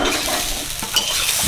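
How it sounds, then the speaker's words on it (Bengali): Grated coconut stir-fried in a pan for kuli pitha, a steady close sizzle with a spatula scraping and stirring throughout, no voices. "নারকেলের ছাইটা ভেজে নেবো কুলি পিঠের জন্য"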